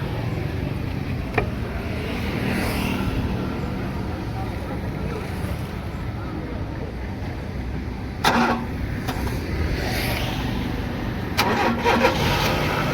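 A vehicle engine with a jammed AC compressor motor is cranked to start, giving a rough steady churning with sharp clunks and surges near the end.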